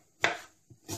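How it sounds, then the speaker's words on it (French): A knife chops onion and celery on a cutting board: two or three sharp, close strikes separated by brief pauses. "je peux hacher grossièrement"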